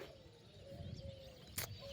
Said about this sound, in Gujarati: કે જો મસ્ત ચકલા બોલે છે અને પક્ષી ઉડે છે